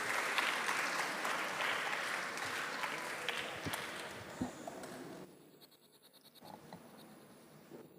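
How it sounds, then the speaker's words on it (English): Audience applause for competition judges at a podcast contest final, a steady wash of clapping from a room that thins out and stops after about five seconds, leaving near quiet. "Please give them a huge round of applause."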